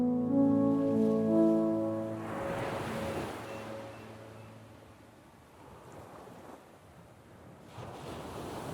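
Ocean waves wash and roll in a broad, steady rush after a brief tonal sound at the start, with some wind noise.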